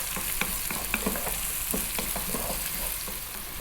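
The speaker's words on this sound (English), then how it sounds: "Now we're gonna drop in 1 cup of onion, and we're gonna go on this above medium heat for 3 minutes." Diced onion fries in oil in a pan over above-medium heat, a continuous close sizzle broken by several sharp scraping stirs and clatters, with no talking.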